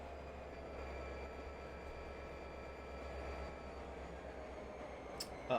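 A passenger train with coaches runs in Trainz Simulator 2 on the Razorback Classic route, a steady low rumble with a constant mechanical drone and a brief sharp noise near the end.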